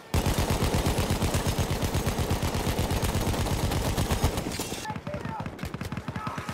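Rapid, sustained MG15 machine gun fire in the video game Battlefield 1 rattles loudly in a steady stream of bursts, easing slightly toward the end with scattered shots.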